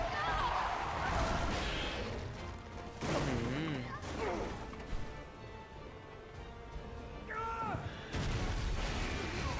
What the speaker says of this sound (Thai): มันระเบิดขนาดนี้ทำไมลีออน ไม่โดนไปด้วยนะตอนนั้นที่อยู่ใกล้นะ